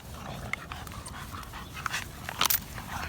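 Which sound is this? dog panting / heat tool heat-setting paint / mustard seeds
dog panting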